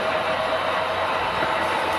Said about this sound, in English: A little train on the single track bridge there